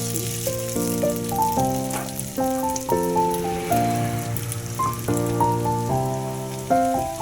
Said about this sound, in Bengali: ওই সেদ্ধ করে রাখা চাউমিনটাকে ওটাকে কড়াইয়ের মধ্যে দিয়ে দিচ্ছি